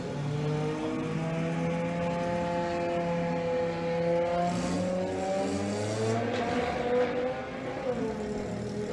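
A VW drag racing car launches at Santa Pod with its torque converter slipping, its engine a steady, sustained drone with shifting pitch, heard at a distance with no voices.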